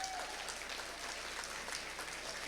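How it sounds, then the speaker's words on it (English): Audience applause at a 2013 school auction event, a dense, steady wash of clapping hands sustained evenly throughout with a brief tone near the start. "Let's give them a hand."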